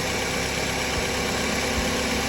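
Honda Accord with the engine running and the AC compressor clutch engaged and spinning, heard as a loud, steady idling drone with a constant hum and no voices.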